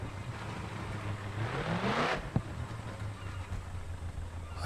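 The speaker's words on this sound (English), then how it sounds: "I think it's the engine" A car engine in the racing game GRID 2 revs up steadily, pitch climbing to a peak before cutting off with a sharp knock, then a low steady drone continues.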